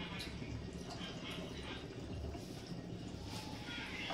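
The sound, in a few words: pouring half a tumbler of water into the dish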